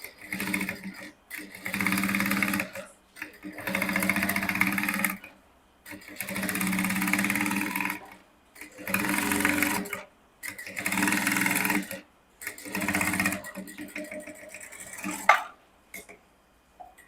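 A sewing machine stitches the bone outline on a transparent illusion corset in repeated bursts of steady whirring, each a second or two long, separated by short silences, close and loud with no talking.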